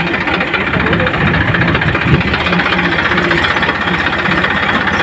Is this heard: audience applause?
no